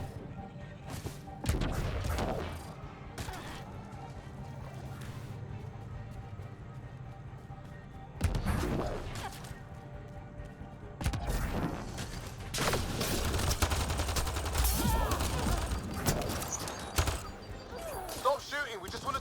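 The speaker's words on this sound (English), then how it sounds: "Stop shooting, we just want to talk." Gunfire in the video game Mass Effect Andromeda comes as irregular sharp bursts and crashing impacts over a steady background, with voices talking throughout.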